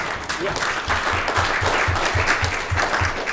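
Steady applause fills a Sierra Club meeting room in Dallas, a crowd clapping continuously at moderate distance, with a low rhythmic thumping underneath and faint voices mixed in.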